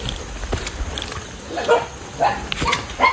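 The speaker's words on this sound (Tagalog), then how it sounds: "Tingnan mo yung aso, Ezra." A dog barks several times in short, spaced bursts along a rocky mountain trail near rice terraces, fairly close, over faint outdoor background noise.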